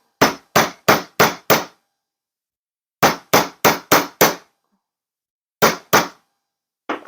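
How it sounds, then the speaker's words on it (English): Hammer blows on metal resting on a bench block while shaping jewelry findings: three sharp, ringing bursts of about five rapid strikes each, then a lone hit, loud and close with silent gaps between groups. "I give it a few whacks with the hammer and then flip it"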